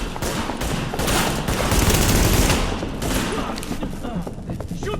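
Dense automatic gunfire from The Division video game rattles in loud, overlapping bursts for a few seconds, swelling in the middle and thinning toward the end.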